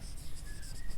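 Chalk or marker writing on a board during a maths lecture on linear differential equations: faint, soft scratchy strokes in short rhythmic bursts over a quiet room.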